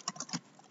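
A few quick keystrokes tap on a computer keyboard, soft and close, in a short burst that trails into quiet.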